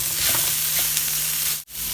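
Carrots and other ingredients fry with softened onion in a pan for a smoky pork and vegetable dish, giving a loud, steady, close hiss of sizzling with faint stirring scrapes and a brief dropout near the end.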